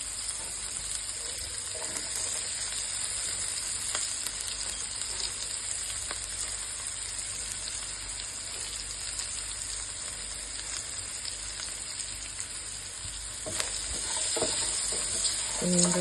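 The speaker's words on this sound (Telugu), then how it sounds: "ఇప్పుడు చక్కగా సన్నగా కోసుకున్న ఉల్లిపాయ ముక్కలు వేసుకుంటాం" Thinly sliced onions fry and are stirred in a pan, a steady loud sizzle running throughout with faint scraping, swelling slightly near the end.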